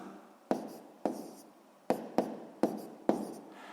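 A pen writes a multiplication on paper, six or so crisp strokes and taps landing in an uneven rhythm, each decaying into soft scratching, close up with no voices.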